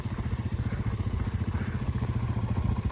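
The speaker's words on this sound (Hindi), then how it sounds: "और बाइक बहुत ही बढ़िया चल रही है।" Royal Enfield motorcycle riding over black ice near Manali, its steady low engine thump running close and continuous throughout.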